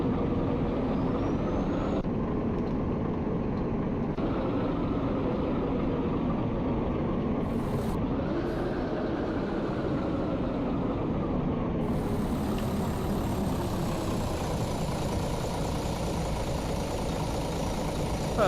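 A coach bus engine idles in the Euro Coach Simulator game, a low, steady drone that holds for a long stretch with a brief hiss partway through and a slight shift in tone later on.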